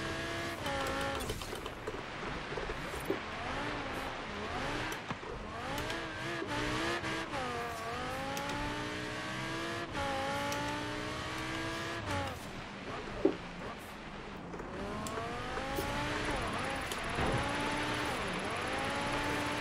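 An Audi R8 Coupe V10 Plus 5.2 FSI Quattro revs hard in Forza Horizon 3, its engine note climbing and dropping through repeated gear changes with occasional tire squeal, steady and continuous throughout.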